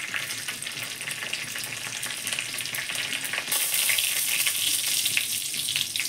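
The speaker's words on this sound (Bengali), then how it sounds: "কড়াতে সর্ষের তেল দিলাম, 2টো তেজপাতা দিয়েছি, এলাচ, দারুচিনি, লবঙ্গ দিয়ে দিলাম" Whole spices, including bay leaves, cardamom, cinnamon, cloves and five-spice seeds, crackle in hot mustard oil in a kadai. A close, continuous sizzle turns noticeably louder and brighter midway as more goes into the oil, and no voices are heard.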